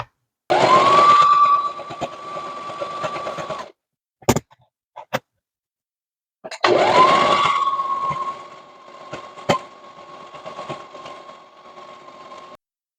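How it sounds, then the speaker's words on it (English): An overlocker runs in two loud bursts of several seconds each, a steady whirring hum as it stitches and trims a patchwork skirt border, with short clicks and knocks in the quiet gap between. "Let me go ahead and get this overlocked in"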